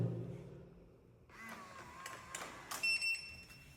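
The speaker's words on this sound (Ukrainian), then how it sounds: "Я вам хочу, щоб ви послухали просто як двері відкриваються." A supermarket's entrance door mechanism clicks and whirs, followed by a few short electronic beeps near the end, heard up close with some faint background noise.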